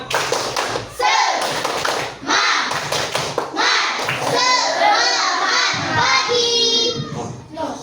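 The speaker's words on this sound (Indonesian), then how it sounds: "Kita tepuk semangat boleh? Tepuk semangat." A class of fifth-grade children claps in a quick rhythmic pattern, with bursts of chanting and voices between the claps.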